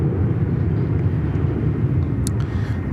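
A Velocity airliner departing a runway at Sydney Airport, heard as a steady, loud broadband jet roar and low rumble that holds evenly throughout without voices.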